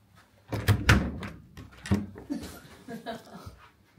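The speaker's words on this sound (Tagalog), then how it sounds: "Pinto." A hotel room door in Sapporo, Hokkaido, opens and closes with a couple of solid thunks and a latch clack, close by, followed by quieter handling noises and faint voices.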